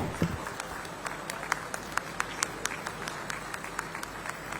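Faint, scattered clapping from an audience at a ceremony for a semiconductor plant groundbreaking in Chhattisgarh, sparse individual claps over a low background hum, distant and thin rather than a full ovation.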